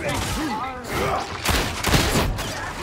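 Laspistol fire in Warhammer 40,000: Darktide, a string of sharp energy shots and blasts crackling loudly under a man's continuous speech.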